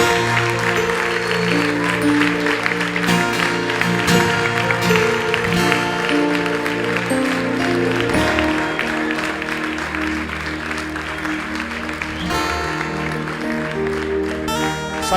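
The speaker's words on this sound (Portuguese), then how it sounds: "Eu queria que você pudesse aplaudir seu Senhor comigo." A church congregation claps steadily and loudly for a long stretch, with music and voices mixed in.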